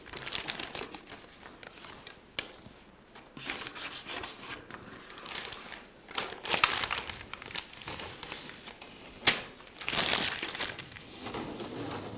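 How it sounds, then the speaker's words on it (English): Vinyl transfer tape peels away from a growth chart decal with soft crinkling and rubbing, a faint, continuous scratchy rustle that swells into a few louder tearing strips near the end. "We've got all our transfer tape peeled off."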